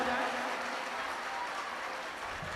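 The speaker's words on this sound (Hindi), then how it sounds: "जोरदार तालियों से आपका इस्तकबाल किया जाए" Audience clapping welcoming a guest at a mushaira poetry gathering, a steady, moderately faint wash of applause throughout with no clear voices.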